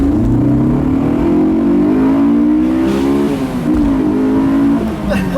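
A 2002 Honda S2000 revs hard through its gears, a loud, close engine note that climbs steadily in pitch as it winds up toward VTEC, briefly dips on a shift, then climbs again.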